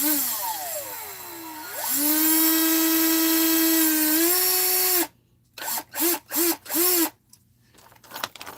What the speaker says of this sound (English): Drilling a hole.